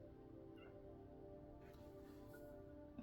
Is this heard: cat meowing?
yes